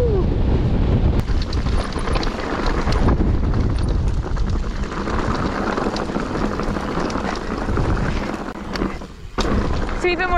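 Strong wind on a mountain bike singletrack descent buffets the microphone in continuous roaring gusts, with rumbling low noise and occasional rattles throughout.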